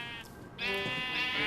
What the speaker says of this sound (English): And it should start shearing those sheep.